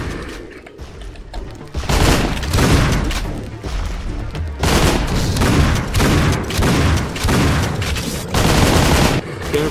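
Heavy gunfire in Painkiller Hell & Damnation, dense rapid shots mixed with booming impacts and crashes, loud and near, building after a quieter opening and continuing in waves.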